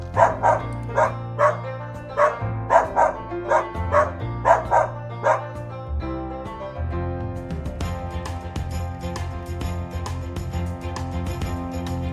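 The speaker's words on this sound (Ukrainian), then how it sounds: "Вона говорить гав-гав." A dog barks about nine times in an even, rhythmic run over light background music, then the barking stops and the music carries on.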